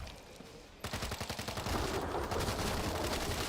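Rapid automatic gunfire in a video game bursts in after a quieter moment, with fast, evenly spaced shots that keep going steadily and loudly through the rest of the clip.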